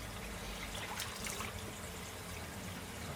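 Soft, steady trickle of water falling from a garden pond shower onto the surface of a koi pond, faint and continuous with no voices.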